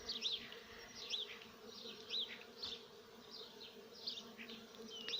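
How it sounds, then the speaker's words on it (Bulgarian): Bees hum steadily around blossoming cherry trees in a monastery garden in spring, a soft continuous drone with repeated chirping birdsong over it and no talking. "Слышно вам гудение пчел?"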